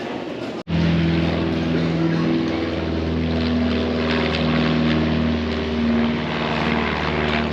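Propeller aircraft engine droning loud and close at an airfield in Temora, New South Wales, a steady harmonic roar that kicks in abruptly after a brief silence and holds throughout.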